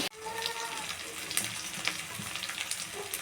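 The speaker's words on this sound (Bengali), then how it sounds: "আদা রসুন বাটা দিয়ে আমি এটাকে ভালো করে কষিয়ে নেব" Crab with ginger-garlic paste is sautéed in oil, giving a steady, moderate sizzle with occasional light stirring clicks throughout.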